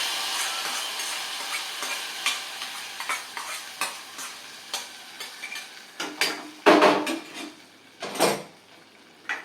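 Sizzling tempering is poured and stirred into pumpkin milk kootu, with a crackling, spattering hiss in repeated bursts, louder toward the end, and no one speaking.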